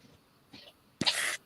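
A single sharp sneeze bursts out after a couple of faint breaths, brief and close.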